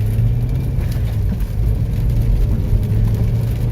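A manual car pulls off in first gear, its engine giving a steady low rumble and whir with mild revving, heard up close throughout without any talking.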